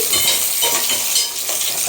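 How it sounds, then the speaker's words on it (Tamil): Loud, steady sizzling of eggplant sautéing in hot oil, with soft stirring scrapes and no voices. "நான் நறுக்கி வச்சுருந்த கத்திரிக்காயை போட்டு நல்லா வதக்கி"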